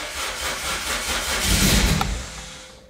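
A Toyota MR2 Spyder engine cranks, catches briefly and runs for a moment at close range, rising to a loud, rough surge before fading back down as it dies.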